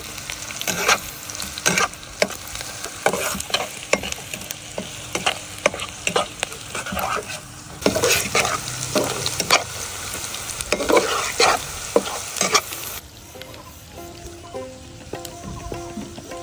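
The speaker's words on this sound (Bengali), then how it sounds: "পেঁয়াজ কুচি দিয়ে দিচ্ছি, মরিচ কুচি দিয়ে দিচ্ছি। ভালোভাবে নেড়ে চেড়ে বাদামি কালার করে নেবো।" Chopped onion and green chili fry in hot oil with a constant crackling sizzle, punctuated by sharp, close scraping and stirring strokes in the pan; the sizzle softens toward the end as stirring stops.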